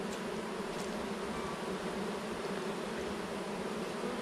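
Honey bees buzz steadily inside a hive, a dense, continuous drone heard close and alone without talk.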